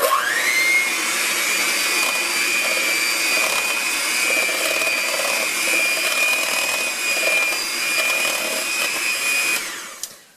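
A two-speed Osterizer blender mixes with a loud, steady motor whine that holds a constant high pitch for about nine seconds before it spins down and stops.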